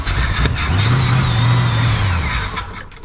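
A 1976 Chevy Cheyenne 4x4 engine with a carburetor still working itself in idles loudly up close, then revs up and settles back down in a swelling rise and fall.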